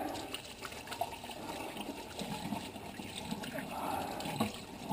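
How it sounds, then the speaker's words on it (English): Hands are rinsed under a running kitchen tap after cooking baby back ribs, a quiet, steady stream of water splashing with small fluctuations throughout. "Let me wash my hands here."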